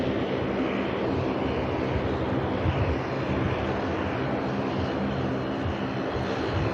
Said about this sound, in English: And here now, the Dash 8 of Luxair.